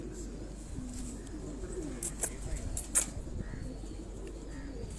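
Heera laal pigeons cooing in low, rolling murmurs through a steady background hum, with a few sharper clicks and a faint voice now and then.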